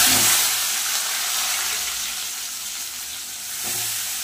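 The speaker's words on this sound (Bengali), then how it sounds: "কড়াইতে দিয়ে দেবো সাদা তেল শাকটা ভাজার জন্য।" Greens, including thick Malabar spinach stalks, frying in hot white oil in a wok with five-spice and dried chillies, a loud steady sizzle that swells at the start and again near the end, with no talking.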